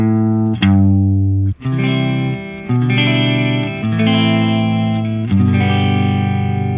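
A lament bass line stepping down from the tonic to the dominant, played as sustained distorted electronic tones with effects, each note changing in clear steps over several seconds, loud and continuous with no voices.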